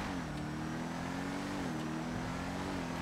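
An Ubermacht Revolter car engine drones steadily on a test drive in GTA Online, a constant mid-pitched hum that rises and falls slightly in pitch.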